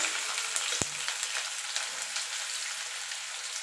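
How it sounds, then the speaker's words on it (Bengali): Sliced onions sizzling steadily in hot oil in a pan, a dense even crackle heard close with one brief knock near the start, no voices over it. "পেঁয়াজটা দিয়ে পেঁয়াজটা লাল লাল করে ভেজে তুলে নেব"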